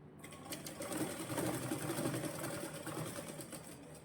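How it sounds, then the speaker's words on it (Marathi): A sewing machine stitches a half-inch dart seam on a blouse, running in a steady, close whirring hum with a fast rhythmic needle patter for the whole stretch. "बघा कोणताही भाग न ओढता मी अर्धाच शिलाई घेतेय."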